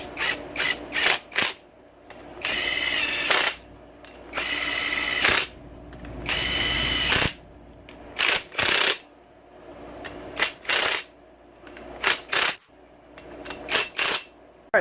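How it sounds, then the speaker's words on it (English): An impact wrench on a low setting seats bolts on a 2016 Honda CRF250R engine during a big bore and cam kit install, firing in short, close rattling bursts of varying length with brief pauses between them. "Use my impact on low setting here just to seat them down for me."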